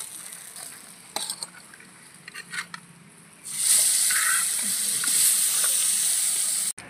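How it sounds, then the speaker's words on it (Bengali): Fish lightly frying in oil makes a soft crackle with a few scattered clinks, then swells into a loud, dense sizzle partway through that holds until it cuts off abruptly near the end. "মাছগুলো হালকা করে ভেজে তুলে নিলাম"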